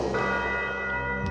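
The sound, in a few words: cathedral bell ringing at midnight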